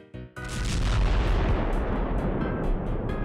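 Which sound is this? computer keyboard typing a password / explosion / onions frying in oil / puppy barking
explosion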